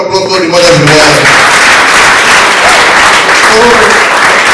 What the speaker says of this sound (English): round of applause for the mother in the world